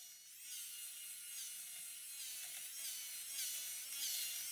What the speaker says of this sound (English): this fabric shaver.